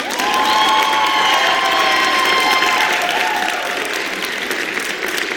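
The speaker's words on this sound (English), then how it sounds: "Clap for him, boy." A theatre audience at a comic musical claps and cheers loudly and steadily, with whoops and shouts riding over the applause, easing slightly toward the end.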